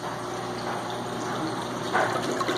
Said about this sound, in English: This is the drain, and this is where the water comes back out.